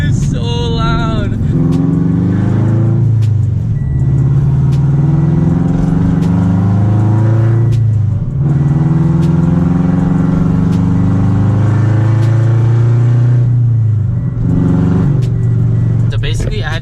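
Loud car engine running with a muffler and resonator delete, only the front pipe left so the exhaust is open; a deep, steady droning rumble with revs rising and falling throughout, close and dominant.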